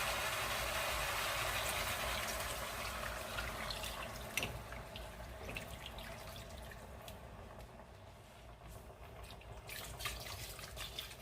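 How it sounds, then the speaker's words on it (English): Water pouring steadily into a stew pot of seasoned vegetables with bay leaves and garlic powder for a slow-cooked beef stew, a soft continuous trickling and splashing that gradually thins out, with no talking. "And start adding our water."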